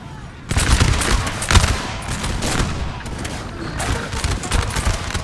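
Musket volleys and artillery fire in the Napoleon Total War 3 game during a recreation of the 1808 Battle of Lapua, dense crackling rolling bursts with heavier booms, loud and continuous after a brief quiet start.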